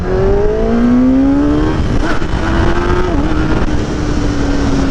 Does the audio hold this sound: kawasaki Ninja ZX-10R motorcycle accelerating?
yes